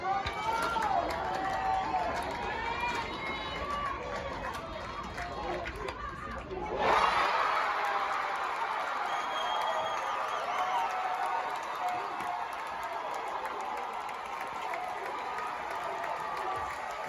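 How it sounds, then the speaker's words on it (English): Fans at a college softball game roar after the final out of an extra-inning win, a dense, sustained wash of cheering and shouting that swells partway through, with voices talking within it. "the noise, how much the crowd is into it"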